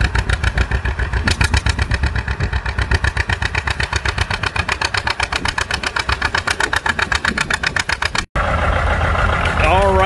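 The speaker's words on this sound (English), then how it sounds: "That's a John Deere 820, and he pulled 5 bottoms. So he's giving her all she wants." An antique John Deere 820 tractor pulls a five-bottom plow at a plow day, its engine pounding out a steady, rapid, loud putt-putt rhythm under load before a brief cutoff, with voices over the running engine.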